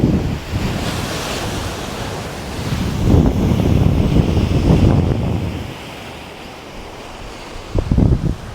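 Waves break and wind gusts at Crow Island beach in Colombo, with surf surging in loud rolling washes and constant wind rumble buffeting the microphone, and no voices.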